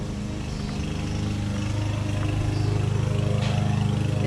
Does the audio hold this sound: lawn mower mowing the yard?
yes